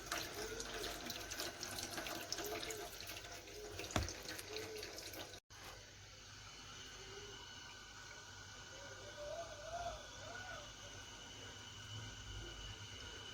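Water from a tap runs steadily into a sausage casing to rinse its inside, a faint continuous trickle with a brief knock partway through and no talking.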